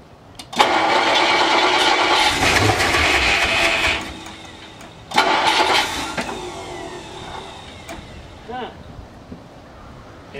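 A classic Ford Thunderbird engine, freed up after being seized and given starting fluid, is cranked in Salt Lake City. Two loud, close bursts of cranking and sputtering come a second apart, then fade into quieter background sound.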